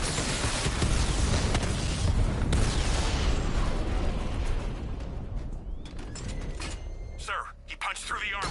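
Tank cannon fire and explosions in Batman: Arkham Knight, a 60mm cannon hitting heavily armored units, with a dense, loud rumble of blasts and mechanical clatter that thins out into scattered bursts toward the end.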